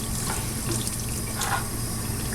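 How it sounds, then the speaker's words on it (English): Hot water running from a tap hose into a sink, a steady loud rushing hiss that carries on unbroken throughout, with no talking. "and I'm turning water on. Comes out of this hose"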